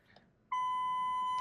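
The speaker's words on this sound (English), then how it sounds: "we get reverse camera, we get PDC beep" A BMW E53's parking sensor, triggered by shifting into reverse, sounds a continuous high electronic tone that starts abruptly and holds steady, loud and close, after a brief quiet murmur.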